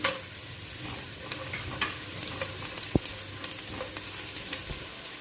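Onions, green chilies and cashews frying in oil for pulao, a soft continuous sizzle with occasional faint spoon taps and stirring clicks.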